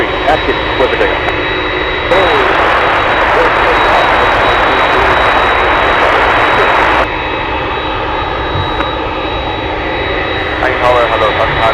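A jet airliner takes off from runway 33 at Anchorage airport, a broad roaring engine rush swelling loud for several seconds then easing to a steady background roar, with radio talk heard over it.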